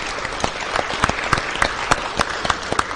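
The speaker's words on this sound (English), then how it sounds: "So a big round of applause for all those who participated in that tonight." Audience applause after an evening careers event, steady clapping from a modest crowd with sharp individual claps standing out, fairly close.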